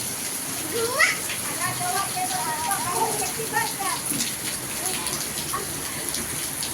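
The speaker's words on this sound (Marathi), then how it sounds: "पाऊस असा जोरदार पाऊस चालू आहे" Heavy first monsoon rain pours down in a steady, dense hiss, with a person speaking and children's voices playing over the continuous downpour.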